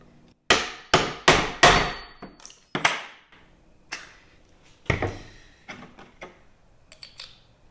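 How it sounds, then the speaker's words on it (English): An Amazon survival shovel being struck repeatedly, sharp metallic hammering hits ringing out in a quick burst of four, then sparser, fainter knocks as its loosening pin rattles, close and alone without talk. "what I'm noticing is this is loosening as I'm hitting it."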